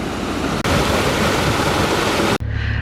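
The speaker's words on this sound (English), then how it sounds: "There's that much water in the system. Don't even need to open the paddles. Look, it's just flowing in there." Water pours into a flooded canal lock on the Aylesbury Arm, a steady, loud, close rushing torrent with two brief cuts in the sound.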